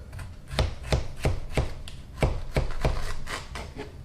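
A knife chops through an endive on a cutting board in a steady series of about ten crisp, close knocks, evenly spaced and loud, with no talking.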